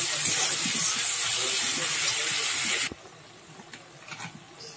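Chopped tomatoes and green chillies hit hot oil in a pan, setting off a loud, bright sizzle that cuts off abruptly after about three seconds, leaving a quiet background.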